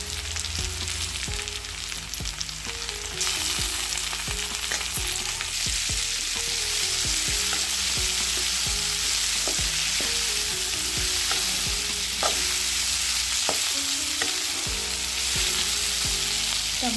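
Chopped tomatoes fry in a pan for capsicum chitranna, giving a steady, even sizzle with frequent scrapes and taps of a spoon as they are stirred, without any talking.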